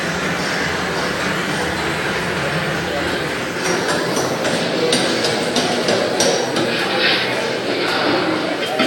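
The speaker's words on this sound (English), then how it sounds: "2 men work with smaller riveting hammers to fit the rivet tightly into a pre-punched hole, striking it in rapid succession." Riveting hammers strike rivets into steel ship plates in a shipyard, a rapid run of sharp metallic blows over a loud, dense industrial din, with a voice talking throughout.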